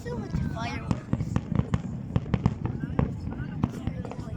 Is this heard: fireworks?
yes